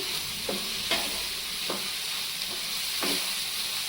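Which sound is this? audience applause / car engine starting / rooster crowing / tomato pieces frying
tomato pieces frying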